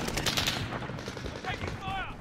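Video game gunfire crackles in dense, rapid bursts of automatic fire amid battlefield noise, loud and continuous, with a voice briefly heard over it.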